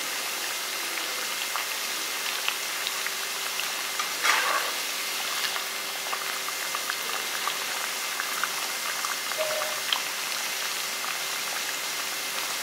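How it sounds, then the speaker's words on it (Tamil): Laddu mixture frying in hot oil gives a steady, soft bubbling sizzle that runs throughout without speech, with a couple of faint clinks. "கொஞ்சம் பொன்னரமாக வந்து பொரிச்சு எடுத்துங்க."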